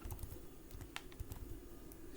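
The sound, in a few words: typing a command on a computer keyboard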